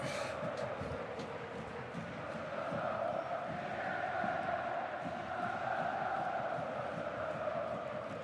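A capacity stadium crowd at an Atletico Madrid versus Barcelona Copa del Rey match roars and chants in a steady, distant swell that rises and falls.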